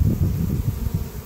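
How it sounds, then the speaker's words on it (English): A dense mass of honey bees piled up on the ground around a swarm produces a close, continuous low buzzing hum with slight pulsing. "If you look right here, all the bees are piled up."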